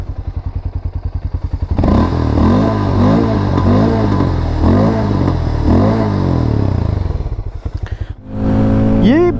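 A Harley-Davidson X440 cruiser motorcycle cranks and fires up, then settles into a loud, close, thumping run with a few rises in revs, and a voice briefly speaks near the end.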